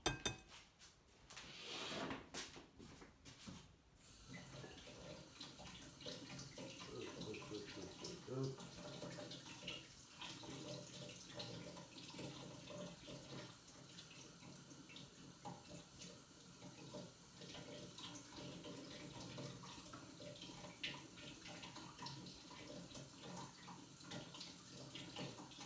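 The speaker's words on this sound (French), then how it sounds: "Après, je les rince vite fait à l'eau tiède." Lukewarm tap water runs steadily into a sink while tomato seeds are rinsed, a close continuous splashing hiss with a few brief knocks near the start and faint talk now and then.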